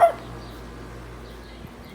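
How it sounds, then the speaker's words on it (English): A neighbor's dog gives a single short bark at the very start in a backyard garden in eastern North Carolina, followed by quiet outdoor ambience. "Neighbor's dog."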